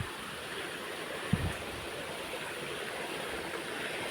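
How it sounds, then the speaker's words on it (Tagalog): A small, shallow river in the Sha Tin countryside flows with little water, making a steady, soft broadband rush that stays even throughout, with one faint knock partway through. "Oh, may mga ilog."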